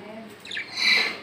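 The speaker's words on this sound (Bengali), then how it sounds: "দেখতে পাচ্ছেন বিগ সাইজের একজোড়া কোকাটেল পাখি রানিং পেয়ার" A large pair of cockatiels at a bird market gives a short, sharp squawk, rising near the end of a brief moment, with faint background murmur.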